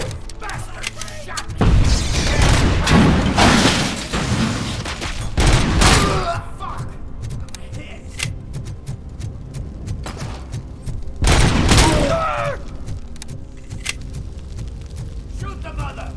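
Heavy bursts of rapid gunfire and booming shots from the Robocop video game come in two main volleys separated by quieter stretches of crackling background noise, with voices talking over parts of it.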